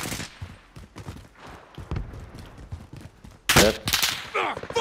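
Gunfire in Call of Duty: Modern Warfare, scattered shots at moderate distance with a louder cluster of close bursts about two-thirds through.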